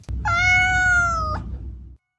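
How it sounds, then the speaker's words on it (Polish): A pet cat gives a single loud, close meow that holds for about a second and then cuts off, with no talk around it. "I nasza kotka Maciek."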